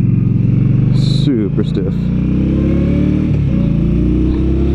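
A 2016 Indian Scout motorcycle engine running while riding at speed, a loud continuous throbbing drone with rising gear-shift sweeps, under someone talking into the wind.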